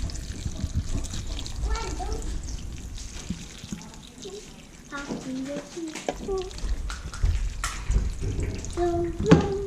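Tap water runs steadily into a pot to cover tallow in a plugged-in cooker set on low, a continuous splashing flow with a child and an adult talking over it.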